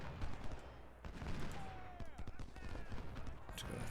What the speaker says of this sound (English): that artillery brigade, I don't know what it thinks it's firing against